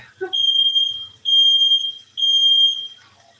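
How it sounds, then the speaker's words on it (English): A smoke alarm sounds three long, piercing high beeps in a row, loud and close, with a brief clatter at the start. "Sorry about the smoke detector."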